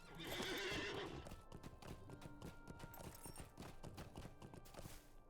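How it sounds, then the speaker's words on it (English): Horses in the Lord of the Rings Online game clip-clop in a steady, dense rhythm, with a loud whinny near the start, the hooves continuing alone afterward. "More horses."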